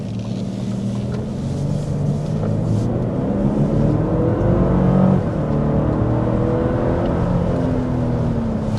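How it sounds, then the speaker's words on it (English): A 2025 Lexus LX 700h hybrid SUV accelerates hard, its engine note a loud, steady rising drone that swells toward the middle, with road and tire roar beneath and no talking. "But first we want to go ahead and start with a hard acceleration."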